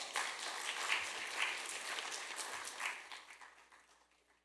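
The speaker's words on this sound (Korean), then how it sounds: "박수해 주시겠습니다" Church congregation applauding to welcome a missionary speaker at a Saturday dawn worship service, a broad wash of many hands swelling early and then fading steadily toward quiet.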